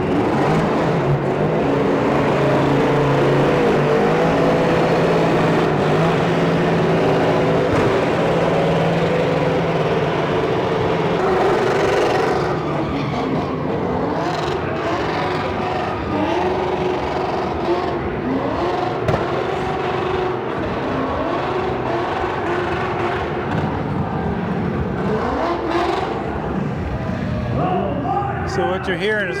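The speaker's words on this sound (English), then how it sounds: "So what you're hearing is a burn pit." Truck engines revving hard in a burnout pit at the SEMA show, a dense, loud roar of several motors that stays continuous throughout, with crowd noise mixed in.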